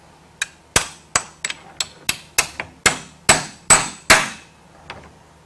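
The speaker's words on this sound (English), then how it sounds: "Grab my hammer." A hammer striking metal while a 766 cutter is slid into place on a RIDGID 1224 threading machine, about a dozen sharp ringing blows in an irregular rhythm, close and loud with no talking.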